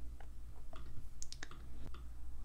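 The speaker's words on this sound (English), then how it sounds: "with your mouse, you're going to click" A computer mouse clicks several times in quick, scattered succession during a design-software session, small sharp taps over a quiet room hum.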